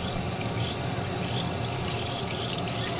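Water running steadily from the sink faucet in a small camper trailer, a soft continuous splashing flow close by with no voices.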